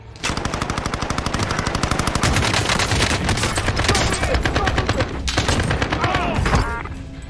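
Sustained automatic gunfire from Warzone, rapid evenly spaced bursts rattling almost without pause for about seven seconds with a couple of brief breaks, loud and close, and a few voices cutting in underneath.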